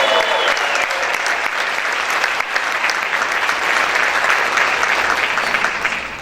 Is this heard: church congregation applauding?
yes